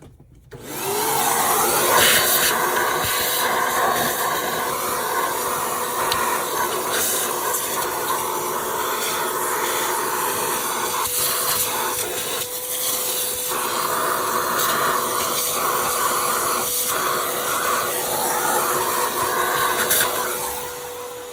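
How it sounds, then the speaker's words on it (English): A Shark NV800 vacuum cleaner starts up and runs continuously, a loud steady whine and rushing airflow with slight shifts in pitch as the suction changes. "I'll vacuum this out, clean it up a little bit."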